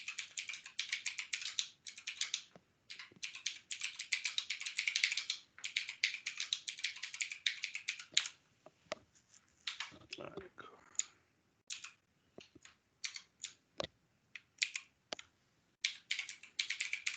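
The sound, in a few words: computer keyboard typing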